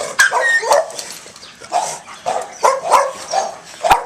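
An aggressive dog barks and yips repeatedly at close range, about eight sharp, loud barks in an uneven rhythm, some with a whining edge, with no voices over them.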